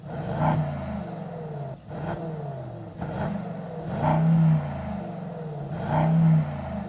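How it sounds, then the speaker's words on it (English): A 2023 Brabus GLS 900 Rocket Edition with a 900 hp engine barks and revs loudly up close, giving several repeated throttle blips about every two seconds over a deep rumbling idle, with no talking. "How do you like the sound of this GLS by Brabus, the Rocket Edition, 900 horsepower?"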